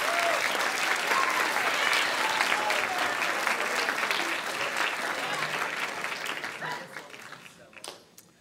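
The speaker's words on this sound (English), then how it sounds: "One more round of applause and congratulations to them." Sustained round of applause from a banquet audience honoring band students, dense and steady clapping that gradually thins and fades toward the end, with faint voices mixed in.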